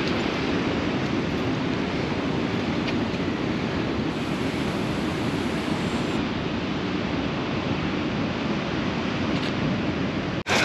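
Ocean surf rolls onto a Moroccan shore in a continuous, roaring wash of breaking waves, with wind buffeting the microphone throughout and no voices heard.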